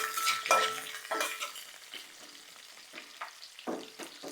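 Potatoes frying in hot oil for an aloo curry, giving a steady close sizzle with stirring scrapes and light utensil clinks against the pan, and no speech.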